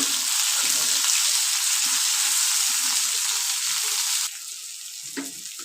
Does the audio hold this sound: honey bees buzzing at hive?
no